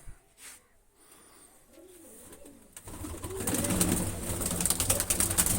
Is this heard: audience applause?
no